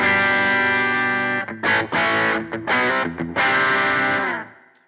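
An overdriven electric guitar on the bridge pickup, a JB Junior, rings out a bright, twangy chord, then plays a few choppy strums before a final chord fades away.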